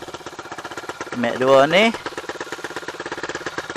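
Yamaha 125Z two-stroke motorcycle with modified ignition timing and an aftermarket exhaust idles in a quick, even popping putter, with someone briefly speaking over it midway before the steady idle resumes.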